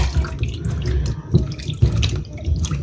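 Tomatoes washed under a running kitchen tap, a continuous close splashing rush of water over the fruit with irregular spattering and no talking.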